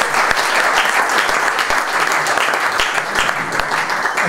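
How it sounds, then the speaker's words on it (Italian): A loud, close burst of audience applause at a presentation of the Montegranaro futsal team, thick clapping with a few sharp individual claps standing out and a faint voice underneath. "ringraziando Michele, un applauso."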